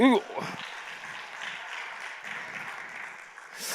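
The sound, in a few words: church congregation applause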